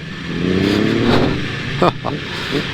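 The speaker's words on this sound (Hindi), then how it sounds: "बड़ी सूदिंग सी, बड़ी हमिंग वाली आवाज़ है इसकी, इस वाली गोल्ड विंग की भी" A large Honda Gold Wing touring motorcycle engine hums steadily up close with a smooth low drone, briefly interrupted by a couple of sharp knocks or clatters.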